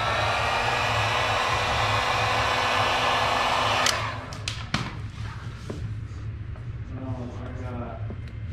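A heat gun warming a Raptor 250 graphics decal gives a steady loud airy blowing hiss that cuts off abruptly, followed by a few thumps and handling noises while a voice speaks.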